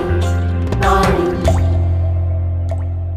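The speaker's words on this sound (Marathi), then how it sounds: "थेंब थेंब हे पाणी।" Water drips drop by drop in a few clear plinks over a sustained musical backing of tones and chords.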